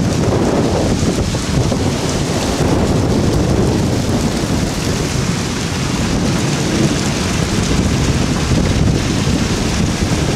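A thunderstorm during a Texas tornado outbreak, with heavy rain pouring steadily and rumbling thunder throughout, loud, dense and continuous, with wind buffeting the microphone and no talking.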